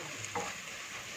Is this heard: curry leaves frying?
yes